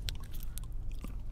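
Someone chewing a Beast bar, a crunchy yet slightly chewy snack, with close, wet smacking bites repeating throughout the short stretch.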